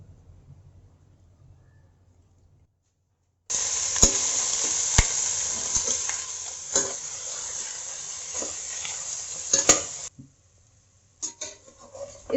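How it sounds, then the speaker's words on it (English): Mutton pieces hit hot oil in a shallow fry, a loud steady sizzle that starts abruptly after a quiet moment and runs for several seconds with occasional stirring clicks, then stops and gives way to a few scraping sounds. "I'll be just doing a shallow fry of the mutton first till it changes color"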